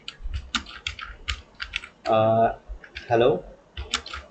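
Computer keyboard keys clatter in quick, uneven bursts as HTML code is typed, close and crisp, with brief spoken interjections between the strokes.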